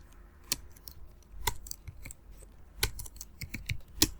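Sparse keystrokes on a computer keyboard while typing a name into an MS Word document, a few sharp separate clicks spaced irregularly, close and quiet with no talking.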